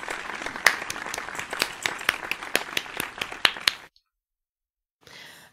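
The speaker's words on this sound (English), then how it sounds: "Round of applause." A small group claps for a few seconds, a brisk, uneven patter of hands that stops abruptly, followed by silence and a faint rustle.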